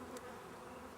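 Dense, steady buzzing of a very populous honeybee hive infected with American foulbrood, heard close up as a continuous, even drone with no voices.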